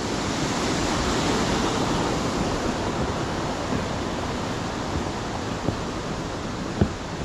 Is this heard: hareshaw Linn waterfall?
yes